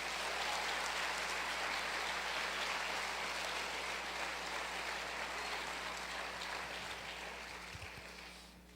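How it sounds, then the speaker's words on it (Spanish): A church congregation giving a long round of applause, with many hands clapping in a dense, even wash over a low electrical hum, gradually fading toward the end, with no speech. "Dale un aplauso al Señor Jesucristo"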